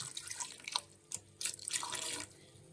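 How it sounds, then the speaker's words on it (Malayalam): Water is poured from a vessel onto chopped tomatoes in a pan while making homemade tomato sauce, heard as a few quiet bursts of splashing and trickling close by. "നമുക്ക് ഈ തക്കാളി കുറച്ച് വെള്ളം ഒഴിച്ച്"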